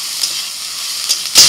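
Soaked soybean chunks frying in oil with a little salt in a home kitchen pan, a close, steady hiss of sizzling that flares suddenly louder at the very end as they are stirred.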